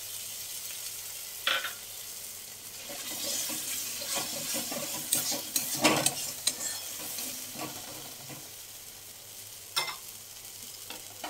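Cashew paste goes into a sizzling pan of onion, ginger and garlic paste for egg korma, with a steady frying hiss, scraping stir strokes and a few sharper clatters, close and fairly loud.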